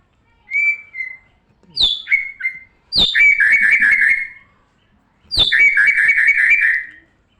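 A white-rumped shama (murai batu) sings nearby in loud, clear bursts of whistled phrases, with short sharp notes followed by longer rich warbling runs and brief pauses between them.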